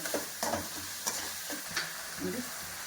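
Ginger garlic paste sizzles in hot oil while being stir-fried for an okra palya, with a steady frying hiss broken by repeated scraping strokes of a spatula against the pan, close and moderately loud.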